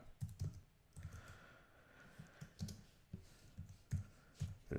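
Faint, close keystrokes on a computer keyboard come in irregular clusters with hesitant gaps, a soft clatter of separate taps over several seconds.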